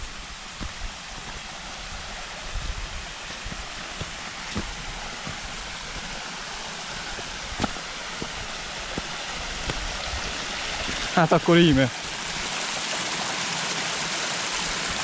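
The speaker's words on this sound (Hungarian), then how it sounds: "Egy két lépcsős vízesés, így jön ki a 7 méter." A two-tier, seven-metre waterfall in the Ökrök valley of the Királyerdő mountains, Transylvania, rushes in a steady, broad roar throughout. A person speaks briefly near the end.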